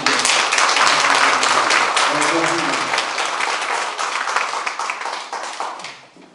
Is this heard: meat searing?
no